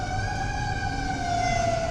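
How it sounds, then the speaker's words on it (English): A wailing emergency siren holds a steady, loud tone with layered harmonics, rising and falling only slightly over a couple of seconds, with no voices over it. "Yeah, see the siren"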